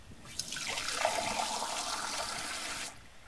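Water pours as a plant is watered in the video game Water Me, a smooth, rushing splash lasting about two and a half seconds before it cuts off cleanly, with no talk over it.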